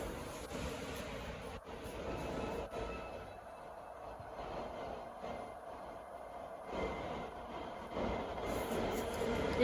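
A subway train rumbles through a Sofia metro station, a continuous rolling roar of wheels and carriages with a faint squeal, steady and enveloping, with no speech over it.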